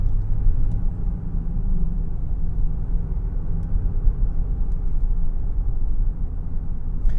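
Steady low road rumble and engine drone from inside a 2024 Nissan Pathfinder Rock Creek driving on a road, heard close from the cabin, continuous and even with no talk.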